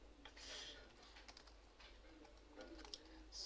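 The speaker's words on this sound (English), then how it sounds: "So I'm going to start typing." Faint, quiet clicking of fingers typing on a computer keyboard, soft irregular taps spread through a low background hum.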